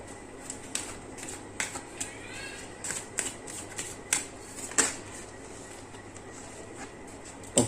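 Crisp, close card-handling sounds: a series of sharp flicks and snaps of playing cards at irregular intervals, with a soft shuffling texture between them in a quiet room.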